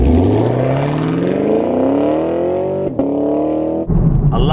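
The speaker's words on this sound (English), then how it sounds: "I love that on the gear change. It just sounds amazing. You get that little rasp." A 2019 Chevrolet Camaro 2SS V8 revs hard and climbs in pitch, then gives a brief raspy blip on the gear change and pulls again, loud and close.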